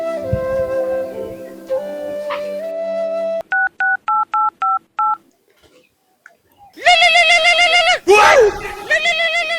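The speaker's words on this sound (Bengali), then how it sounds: "দেখি ডাক্তারকে একবার ফোনটা করি" A phone keypad sends a quick run of six evenly spaced dialing beeps, loud and close. It comes after a sustained electronic melody and before bursts of loud, harsh harmonic sound.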